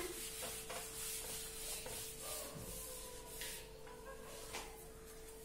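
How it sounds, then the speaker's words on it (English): A classroom board is rubbed clean in short, soft swishing strokes, a faint dry scrubbing with a steady tone humming underneath. "Shall I rub the board?"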